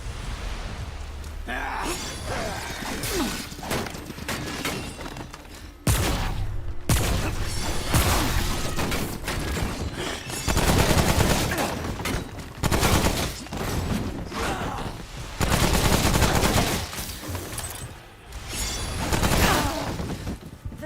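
Shotgun fire in Remnant: From the Ashes, repeated loud, booming blasts in irregular bursts over dense, chaotic combat noise, close and heavy throughout.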